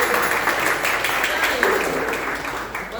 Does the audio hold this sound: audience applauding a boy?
yes